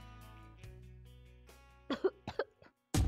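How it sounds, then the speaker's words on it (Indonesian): A few quick, sharp coughs in a burst, followed by one loud harsh cough at the end, close and clear against a quiet background. "tiba-tiba batuk dan mengeluarkan getih di bibirnya dan di telapak tangannya"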